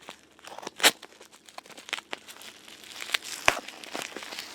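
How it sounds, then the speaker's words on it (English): Scissors cutting and crinkling plastic packaging around a digital camera, close and fairly quiet, with irregular crackling snips and rustles and a few sharper cuts, no talking. "I'm just gonna have my scissors cut this stuff now"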